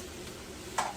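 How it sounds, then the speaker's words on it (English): Bacon and sausage cooking in a buttered pan, a soft continuous sizzle with a brief louder scrape of turning near the end, quiet and without talk. "the bacon is cooking and the sausage."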